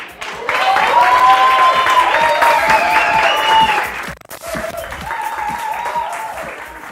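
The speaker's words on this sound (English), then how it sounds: "Please, another round of applause" Audience at a startup demo day event applauding, a dense burst of clapping lasting a few seconds, a brief break, then softer clapping picking up again.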